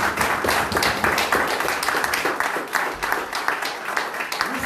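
A church congregation applauding during a sermon, with dense, steady clapping from many hands in a large room, sustained for several seconds.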